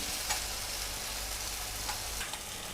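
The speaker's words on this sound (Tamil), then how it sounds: "இப்போ இதிலே எண்ணெய் ஊற்றிருக்கேன். இதில் இதை போட்டுக்கலாம் வாழைக்காயை." Masala-marinated raw plantain fries in hot oil in a pan, giving a continuous close sizzle and hiss with a few faint ticks, steady and fairly quiet, with no voices.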